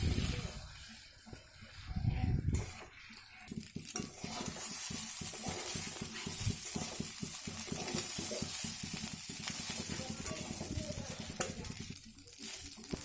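Rice being stir-fried in a wok for khichuri: close, rhythmic scraping strokes of a spoon against the pan over a steady sizzle, running continuously.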